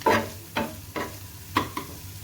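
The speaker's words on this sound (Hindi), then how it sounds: "1 से 2 मिनट के लिए और मैं इसको भून दूँगी" Spicy tawa keema being fried and stirred in a pan, with a series of four or five short scraping bursts against a soft sizzling bed, close and moderately quiet, no talk.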